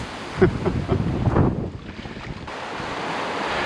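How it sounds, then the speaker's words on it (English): Storm-swollen West Dart River in spate after Storm Francis, a continuous broadband rushing roar with gusty surges and wind buffeting the microphone, loud and close throughout. "The West Dart River is an absolute spate."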